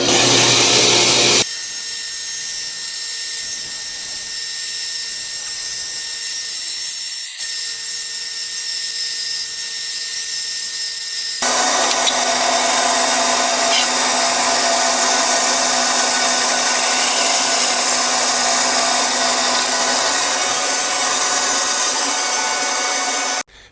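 A power tool trues up the side of a cast resin blank for turning, a loud, steady broadband whir running continuously with one abrupt shift in tone partway through and no speech.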